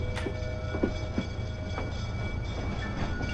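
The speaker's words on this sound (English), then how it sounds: "I'm on a train, I imagine, is what's happening here." A steady video-game train rumble with soft rhythmic clacks of wheels on track, continuous and fairly loud throughout.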